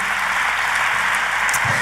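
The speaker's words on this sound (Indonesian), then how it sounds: "Sekali lagi boleh tepuk tangannya yang lebih meriah," Church congregation applauding together, a steady dense wash of clapping that fills the space evenly from start to end with no voices rising above it.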